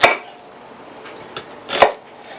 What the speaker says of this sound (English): and we cut them in wedges.